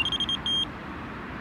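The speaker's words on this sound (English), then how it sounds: "That's couple of beeps, it's not enough." A pike-fishing bite alarm gives a rapid run of high electronic beeps, then one longer tone, a pause, and another beep starting at the end.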